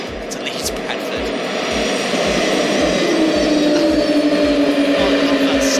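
Concorde in the X-Plane 11 flight simulator as engines one and four shut down after landing at Leeds Bradford, a loud jet roar with a whine slowly falling in pitch over a pulsing low rumble.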